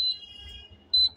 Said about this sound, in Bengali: Alarm system.